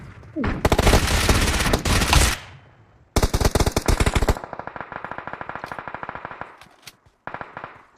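Rapid automatic gunfire in PUBG Mobile, loud and close, arrives as long sustained bursts separated by short pauses, then shifts to a steadier string of quick shots before tapering into a final short burst.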